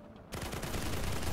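Gunshots in the video game Black Skylands, a sudden onset after a quiet moment followed by a dense rapid volley of shots that stays loud and continuous to the end, no speech.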